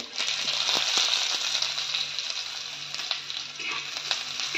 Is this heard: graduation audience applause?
no